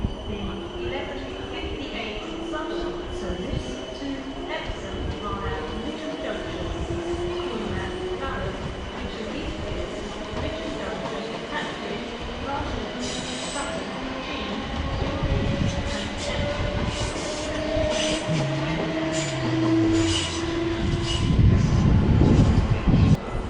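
A Southwestern Railway train bound for Twickenham pulls away from a platform at Clapham Junction with a low rumble and a rising motor whine, wheels clattering and growing louder toward the end, amid station ambience.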